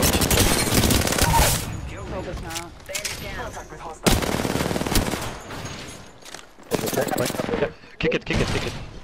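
Rapid bursts of gunfire from an Apex Legends firefight, dense and loud in clusters with brief gaps, sharp cracks layered over a busy game mix.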